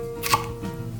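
A knife slicing seeded paprika into 5 mm strips on a cutting board, a single soft crisp cut with a light thud, close and brief over a faint steady hum.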